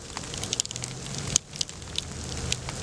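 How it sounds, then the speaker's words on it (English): Freezing rain and sleet fall steadily during a winter storm in Washington, D.C., a dense continuous patter with sharp icy ticks and crackles scattered throughout, heard close by outdoors. "Freezing rain and sleet that's been dropping."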